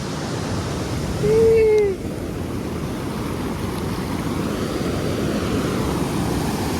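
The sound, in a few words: small waterfall by the beach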